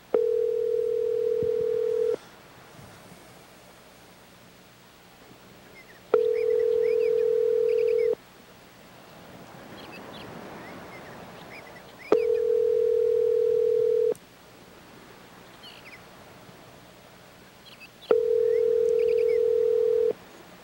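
An outgoing call to a cell phone ringing back on the line: four long, steady, loud tones, each about two seconds, separated by roughly four-second gaps of quiet line hiss, with no voices.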